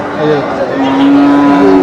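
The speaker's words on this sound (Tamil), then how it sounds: "சிந்து மாடு சிந்து மாடு" A Sindhi cow at the Karimangalam cattle market in Tamil Nadu gives a long, loud, drawn-out moo, with market chatter and voices in the background.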